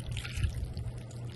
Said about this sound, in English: So I'm just gonna put a little water in here.